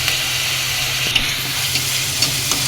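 A ground paste of onion, garlic, ginger and cardamom sizzles steadily in hot oil, a dense close hiss with a few faint ticks of stirring.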